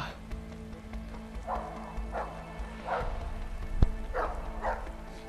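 Several dogs bark in the video game A Way Out, a run of loud, close woofs in a loose rhythm over steady background game noise, with no talk.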